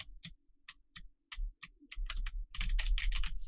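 Computer keyboard keys pressed to steer a sprite in Game Boy game development: isolated clicks at first, then faster clustered taps building into a dense, close burst of typing.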